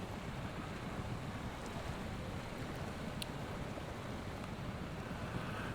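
Steady rushing of flowing water around a stuck truck in the Snowrunner video game, a continuous broadband wash with wind-like texture and no clear breaks, moderately loud throughout.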